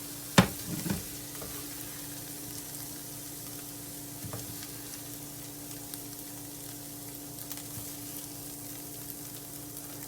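Chopped Brussels sprouts frying in a pan give a steady, moderate sizzle that continues throughout, with a couple of sharper knocks near the start and faint occasional clinks, and no speech.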